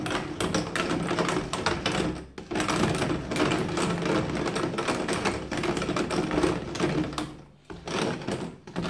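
Brass ammunition cases stirred by hand in a Bar Keepers Friend cleaning solution, a continuous busy clatter and rattle of metal cases knocking together, fairly close, with two brief pauses in the stirring.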